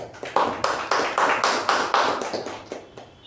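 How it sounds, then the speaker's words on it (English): A small group at a Toastmasters meeting claps for Toastmaster Aakash, a few close, sharp claps landing in a quick, regular rhythm and then tapering off, with no voices over them. "let's give a big round of applause for Toastmaster Aakash"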